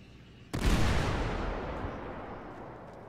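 A single loud, booming grenade explosion in GTA 5 Redux hits suddenly after a short quiet stretch, then a long rumbling tail slowly fades out.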